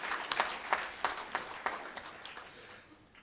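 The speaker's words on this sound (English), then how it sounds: "a round of applause for those mentors and coaches" Audience at a Mandela Washington Fellowship regional conference clapping for mentors and coaches, a moderate hall of distinct handclaps fading toward the end, no talking.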